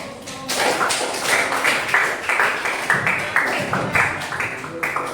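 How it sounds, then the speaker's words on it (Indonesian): Classroom audience claps after a presentation, steady rhythmic applause from a group of students lasting several seconds, moderately close with no talking over it. "Kita tepuk tangan."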